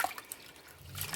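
Kale greens, cleaned Southern style, are swished around in a container of water: a brief, faint sloshing and trickling with soft drips, with no talking.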